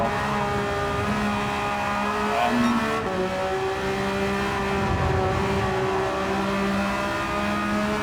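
Porsche race car on a circuit in a racing video game, its engine note rising and falling through gear changes, loud and close, with a steady tire hiss and no voices.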